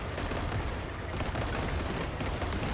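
Turret gunfire in the Machine Mind vehicle-builder base-defense game, a dense, continuous rapid barrage of shots that stays loud and close for the whole stretch.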